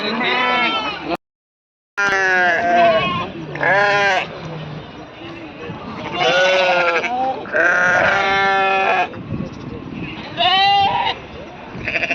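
Sheep and lambs at the Mudhol sheep market bleat repeatedly, loud and close, with several animals calling in turn over a busy crowd murmur; a brief dropout breaks the sound early on.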